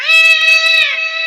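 A person imitates a cat's meow, a single sustained, loud, tonal mew held for about a second close to the microphone, with no other sound around it.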